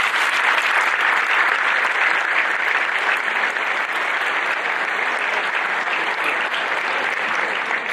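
A crowd at a basketball court dedication claps for the players in loud, sustained, dense applause that fills the whole stretch without letting up.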